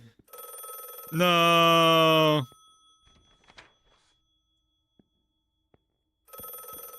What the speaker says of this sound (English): I'm gonna be tortured with the ringing until I find a stupid freaking phone.